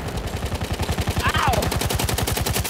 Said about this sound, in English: Aufpass, Maschinengewehr!